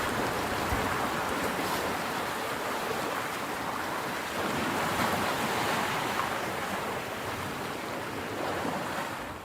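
Ocean surf rolling onto a Prince Edward Island beach, a steady close wash of breaking waves with wind noise on the microphone, continuous and fairly loud throughout, no voices.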